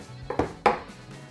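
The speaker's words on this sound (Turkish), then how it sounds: "Şöyle iri iri hemen doğruyorum." A knife chops peppers into large pieces on a board, giving three or four close, sharp knocks spaced irregularly in a quiet kitchen.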